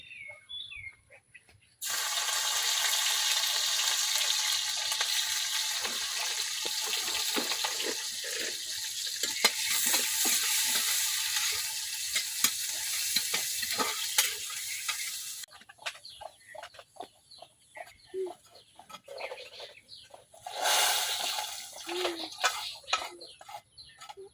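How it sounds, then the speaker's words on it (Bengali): Onion and garlic frying in hot oil in a wok for dal tempering: a loud, steady sizzle for about thirteen seconds, then quieter stirring clatter and a brief fresh burst of sizzling near the end. "ডাল বাগার দেওয়ার জন্য আমি তেল দিয়ে দিছি কড়াইয়ে, এখন পেঁয়াজ রসুন দিয়ে নিতেছি।"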